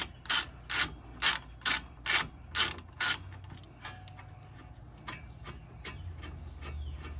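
A hand ratchet loosens brake bolts on a car during a DIY brake rotor replacement, with seven quick, evenly spaced clicking strokes up close, then slower, fainter clicks and scraping metal handling.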